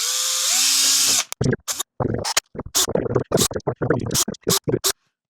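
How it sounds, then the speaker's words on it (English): A power drill whines steadily for about a second, then grinds in a rapid series of short, sharp bursts as the bit bites into metal, stopping and starting close by. "So I would drill from the backside first."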